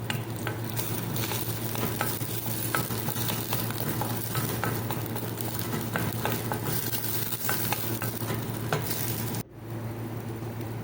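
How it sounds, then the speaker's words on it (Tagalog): Onion and ginger sauté in a hot pan, giving a loud, continuous sizzle with scattered stirring scrapes that stops abruptly near the end, leaving quieter background sizzle, with no talking. "gisa-gisa lang yan, guys. Una yung sibuyas. Sunod natin yung luya."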